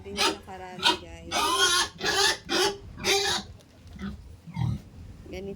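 A pet pig grunts and oinks in short, close bursts, several calls spaced irregularly, while a person talks over them.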